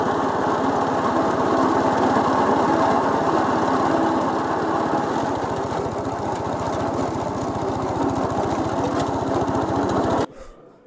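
A used wood chipper grinding fish carcasses and fish waste runs loud and steady close by, a dense rattling engine drone that churns for about ten seconds before cutting off abruptly near the end.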